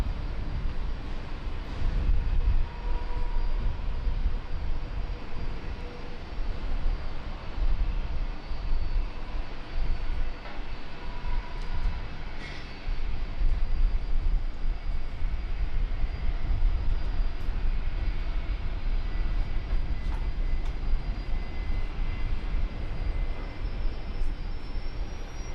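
A Qantas Boeing 777-200ER jet takes off from runway 19 right at Brisbane Airport, making a steady, loud broadband roar that holds for the whole stretch with no voices.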